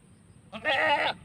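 A goat on a ranch lets out a single short, nasal bleat, close and clear against a quiet background.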